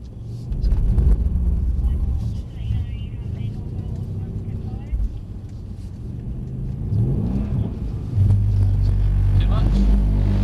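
Mercedes-AMG C63 drifting on a track, a steady loud engine drone with rumbling and revving that swells and shifts pitch, heard from inside the car.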